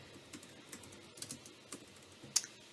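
Soft, scattered keystrokes on a computer keyboard, a few quiet taps spread unevenly with one sharper click near the end, close by against a faint hiss, no voices.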